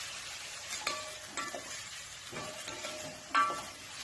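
Onions stirred in a pan over a low flame for a Kerala-style potato stew, a soft steady sizzle broken by a few scraping stirs and a brief clink near the end, close and quiet, with no talking.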